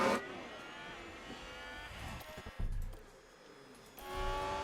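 Ferrari Formula 1 car engine from the racing game F1 Manager 22, a loud high-pitched engine roar sweeping past, dipping briefly in the middle, then a second car swelling up near the end, with no talking.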